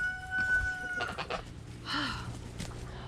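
Homestead chickens cluck and squawk in bursts up close, with a few sharper calls over a steady low background hum.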